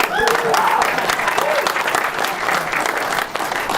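A crowd at a Bernie Sanders campaign rally in Milwaukee applauds in a dense, loud wash of clapping, with a few voices calling out early and the clapping thinning slightly toward the end.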